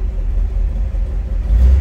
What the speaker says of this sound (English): Nice idling car. Sounds good.